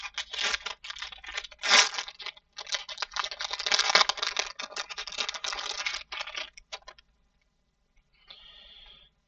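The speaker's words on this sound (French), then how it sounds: "on va ouvrir le booster collector d'échantillons" A Magic: The Gathering collector booster pack for Bloomburrow being torn open, with crisp crinkling and tearing of foil wrapping in close bursts, then a pause and a faint rustle at the end.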